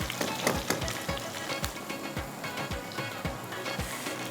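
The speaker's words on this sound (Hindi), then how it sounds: "तो बस थोड़ा सा इसको मैं प्याज को ब्राउन करूँगी।" Onions browning in a hot pan: continuous sizzling under regular scraping strokes from a stirring spoon, close and moderately loud, with no talking.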